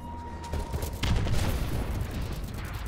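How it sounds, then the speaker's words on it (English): Explosions from an enemy missile strike in the shooter game Call of Duty: Advanced Warfare, a dense rumbling burst of booms and gunfire starting about a second in and continuing at moderate volume. "Enemy missile strike."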